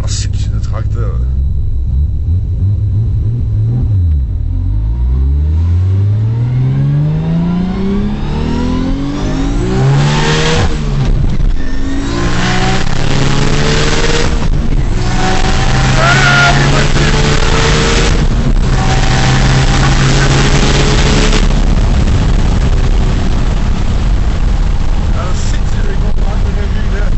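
A Nissan Skyline R33 running on low boost revs hard and accelerates, its loud, close engine note climbing repeatedly through the gears with rumble and wind buffeting, while voices talk over it.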